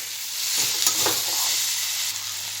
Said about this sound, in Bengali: একটু ভেজে নেব, যেহেতু আগে ভাজিনি, এবার ভেজে নিচ্ছি